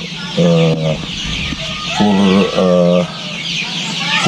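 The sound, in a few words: Arab chickens clucking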